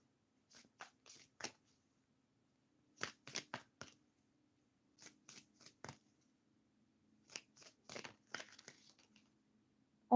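Tarot cards shuffled by hand at close range during a live reading, in four quick bursts of crisp papery riffling and snapping separated by short pauses, with no talking.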